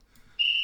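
A loud, shrill whistle blows steadily for about a third of a second after a brief quiet lead-in, alone at a rapid chess tournament in Rishon Lezion.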